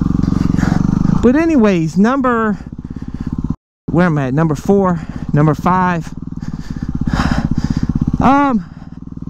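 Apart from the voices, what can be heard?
dual sport motorcycle riding off-road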